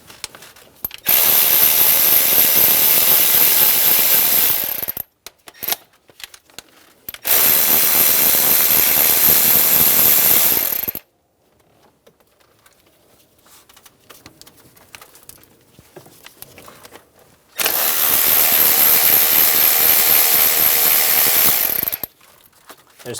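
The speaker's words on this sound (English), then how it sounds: "Using a 10mm socket, remove the 5 bolts for the valve cover." A power ratchet with a 10mm socket spins out valve cover bolts on a 2003-2008 Honda Pilot, three long loud whirring runs of several seconds each, separated by pauses and quieter handling noises.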